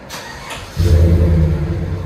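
A 2018 GMC Sierra Denali 5.3L V8 with a Flowmaster Super 44 exhaust, resonator and muffler removed, fires up after a short quiet moment into a deep, loud, rumbling idle up close.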